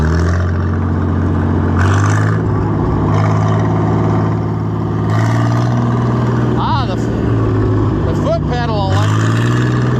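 A John Deere 4020 gas tractor engine runs in sixth gear with a loud, continuous steady drone close by, while a person speaks intermittently over it.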